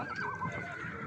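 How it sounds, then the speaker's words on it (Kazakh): Stallions neigh in a horse herd on a Kazakh farm, a short wavering whinny up close with faint hoof and herd noise behind it. "Кісіне батыр. Айғырлар."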